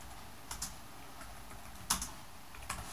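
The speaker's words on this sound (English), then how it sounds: "we're gonna type in Stump Root XDA." Keys on a computer keyboard clatter in a few short, sparse bursts, close and quiet against a faint, steady background hiss.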